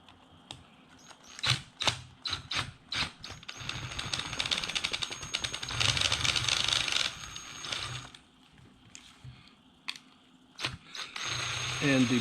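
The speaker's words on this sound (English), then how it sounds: "If you just take those 2 screws out," Mounting screws are backed out of a 12v water pump with a ratcheting driver, bursts of quick clicking ratchet strokes separated by pauses and handling noises, close and fairly loud.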